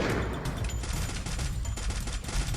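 Steady rattle of gunfire in the mobile battle-royale game Free Fire, shots coming from a distant enemy in dense overlapping bursts across the whole moment, moderately loud with no talk over it.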